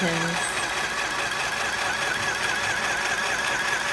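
A sewing machine stitching over earlier stitches on a fabric tote bag, a steady, fast mechanical whir running close and unbroken for a few seconds.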